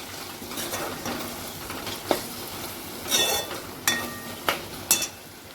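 Chopped onion and tomato sauté in a pan over a steady sizzle, with a spoon stirring and scraping now and then and several sharp clinks of utensil against the pan in the later half; no talk.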